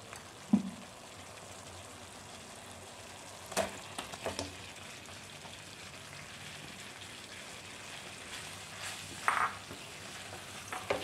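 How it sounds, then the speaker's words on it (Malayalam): Gooseberries sizzle in a boiling spice paste for pickle over a low flame, a quiet steady fry broken by a few scraping stirs of the spoon. "നന്നായിട്ടൊന്ന് ഇളക്കി യോജിപ്പിച്ച് കൊടുക്കാം ഈ അരപ്പ് നെല്ലിക്കയിൽ ഒന്ന് കവർ ചെയ്തിരിക്കണം"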